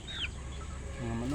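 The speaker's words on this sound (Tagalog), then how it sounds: "Mga manok, ayan." A mixed flock of small and large chickens clucks and chirps softly on a small farm amid outdoor background noise, with a couple of short calls rising from the flock.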